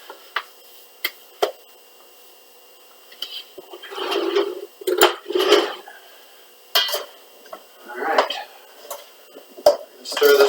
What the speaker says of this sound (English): Stir this around to get all those salt and pepper and Worcester evenly coated on these.